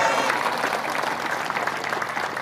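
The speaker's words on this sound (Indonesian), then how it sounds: "Tepuk tangan." Steady applause from a crowd at an Indonesian public address on shrimp farming, a dense, even patter of many hands clapping that holds for the whole stretch without letting up.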